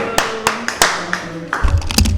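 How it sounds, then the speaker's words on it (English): Scattered hand claps from a small audience rise into a brief burst of applause for a guest on a podcast, sharp and close with no talk over them. "let's give a nice warm round of applause for Yunnan, everybody"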